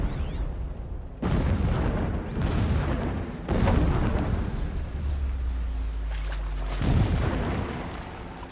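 Several booming explosions in the video game Horizon Zero Dawn Remastered go off in turn, each a sharp blast trailing into rumble, with a low droning hum between the later ones.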